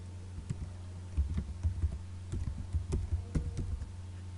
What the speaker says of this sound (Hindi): अब मैं यहाँ पे कोई टेक्स्ट लिखता हूँ, टेक्स्ट लिखता हूँ हॉरिजेंटली